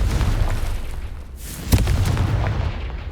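The Confringo blasting spell in the video game Hogwarts Legacy sets off a dense, rumbling explosion, with a sharp punchy impact partway through over a steady, loud roar.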